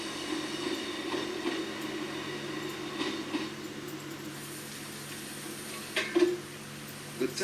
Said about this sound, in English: The train now approaches Talyllyn.